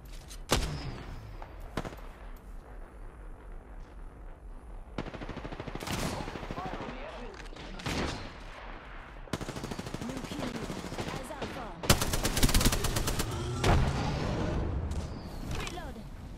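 Gunfire in Apex Legends, with repeated bursts of rapid automatic fire and single sharp shots at close range, some loud cracks and heavier volleys, under intermittent voices talking.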